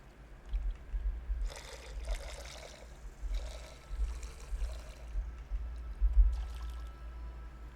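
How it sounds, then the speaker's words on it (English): Gold pan shaken in water in the Gold Mining Sim 2 video game, faint bursts of sloshing and trickling water in short repeated shakes over a low steady hum. "dip the gold pan in the water and give it a good shake"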